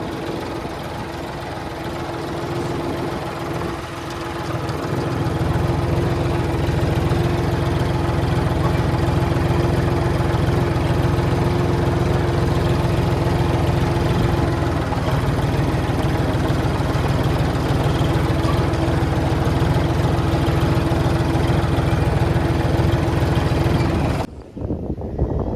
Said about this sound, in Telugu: ఇప్పుడు ట్రాక్టర్ వస్తుంది